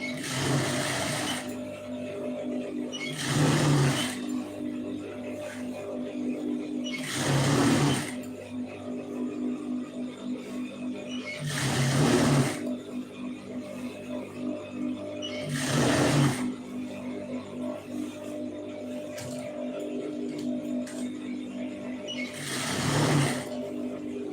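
A sewing machine stitching falls onto a saree runs in a steady motorized whir, broken by about six louder surging bursts at regular intervals as the cloth is fed, close and without talk.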